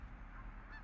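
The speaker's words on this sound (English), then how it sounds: "echoing geese" Geese honk through a hallway with a hollow echo, the calls repeating faintly over a steady low rumble, with no voices.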